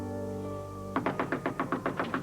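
Knocking on a door: a sudden run of about nine evenly spaced raps starts partway through, loud and close, over a steady background hum.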